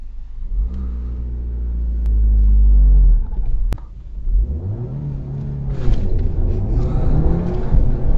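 A tuned 2009 Audi A5 2.0 TFSI makes a brake-and-gas launch, its engine holding loud revs before climbing hard through rising gears, the roar near and forceful, with no talk.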